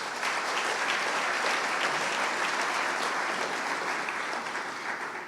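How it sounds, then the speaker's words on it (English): Audience applause at a Henderson County State of the City event, a steady, dense clapping from a large crowd that holds for several seconds before easing slightly at the end. "let's give them a big round of applause"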